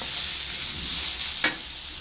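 Curry leaves sizzle steadily in hot oil in a pan for a tempering, making a constant close hiss with one brief sharper crackle partway through and no talking.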